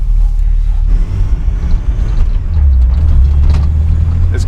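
A car engine runs steadily on a test drive after a repair, its loud low rumble rising and falling under the drive, with occasional knocks and rattles from the cabin.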